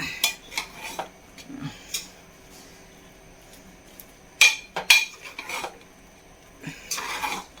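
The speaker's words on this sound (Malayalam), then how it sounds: "കുക്കറൊക്കെ ഒന്ന് തുറന്ന് നോക്കാം." Metal pressure cooker and lid clanks as it is opened, with a few sharp clinks and taps, scattered irregularly over several seconds, fairly close with no talking.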